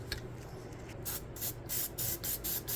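Plasti Dip rubber coating sprays from an aerosol can in a light first coat on a Subaru Forester headlight, a series of short hissing bursts in quick succession, close and fairly loud.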